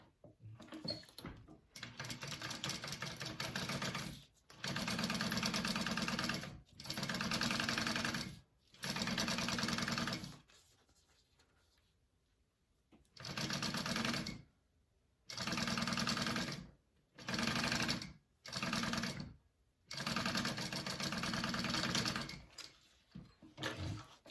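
A sewing machine top stitches a zipper bag in repeated bursts of rapid whirring, each run lasting a few seconds, separated by short pauses and quiet handling.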